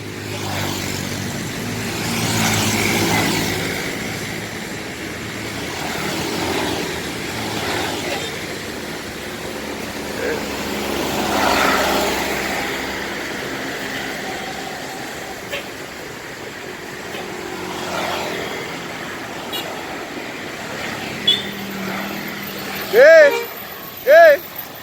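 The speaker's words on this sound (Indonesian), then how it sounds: "Berangkat dari Tirtonadi Barat bus Sugeng Rahayu tujuan Bobot Sari." Sugeng Rahayu bus pulling out of Tirtonadi Barat terminal in Solo on a rainy day, bound for Bobot Sari, a steady engine rumble with terminal ambience, ending in two short loud horn blasts.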